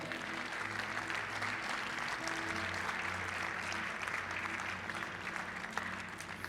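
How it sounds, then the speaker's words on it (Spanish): A church congregation applauds steadily throughout, a dense wash of clapping from a crowd in a reverberant hall, with a low hum underneath. "Denles aplauso al Señor."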